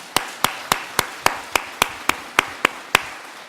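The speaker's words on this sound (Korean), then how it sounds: "크게 한번 박수 한번 해줘" At a church revival meeting, the congregation claps in rhythmic unison: about eleven sharp, evenly spaced claps in quick succession, loud and crisp, with no talking.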